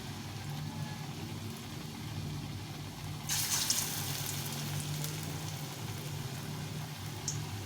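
Red lentil fritters frying in hot oil over low heat, a soft steady sizzle with a brief brighter burst partway through, fairly quiet.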